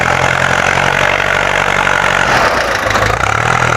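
A tractor engine runs loud and close at a building site in Thailand, a steady low rumble with a slight shift in pitch partway through, alone without voices.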